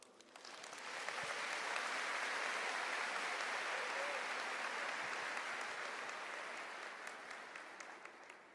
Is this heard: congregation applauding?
yes